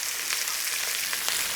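Onions fry in a pan over medium heat, a dense, even hiss of sizzling that stays steady throughout with no stirring or voices.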